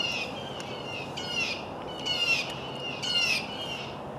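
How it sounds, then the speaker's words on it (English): Birds chirp and squawk outdoors in Southeastern Louisiana in a few bright bursts of calls over soft steady background noise. "As you can tell, the birds are very exuberant about today's weather."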